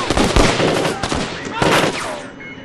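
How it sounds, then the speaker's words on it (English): Gunfire in Splinter Cell: Double Agent, dense bursts of rapid shots with sharp cracks in quick succession, loud and close, easing off toward the end into a quieter tail. "Open fire!"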